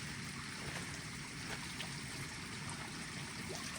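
A large mountain waterfall on the trek route near Panch Pokhari in Solukhumbu gives off a continuous, even rush of water, faint and steady with no breaks.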